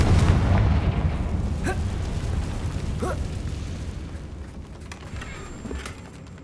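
Confringo spell explosions in the Hogwarts Legacy video game: a deep booming blast opens, followed by several smaller pops and crackles as the rumble slowly fades, with no talking.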